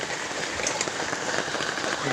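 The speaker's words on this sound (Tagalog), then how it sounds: "Ang lakas po ng ulan." Heavy rain pours down in a dense, steady hiss of drops striking surfaces, loud and unbroken throughout, with a faint voice partly under it.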